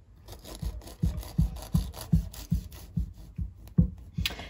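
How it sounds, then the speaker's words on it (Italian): A knife saws through a slice of soft coconut plumcake with no butter, making about ten steady rhythmic back-and-forth strokes, close and moderately loud, with a brief sharper scrape at the end and no voices. "Ed eccoci al taglio della fetta."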